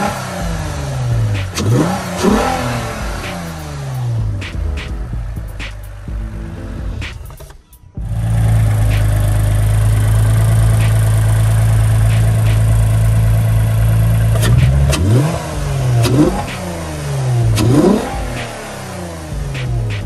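A Lexus IS300 fitted with a Takeda intake runs: the engine revs up and falls back in repeated sweeps, settles into a loud steady drone, then revs again, close and prominent with no talking.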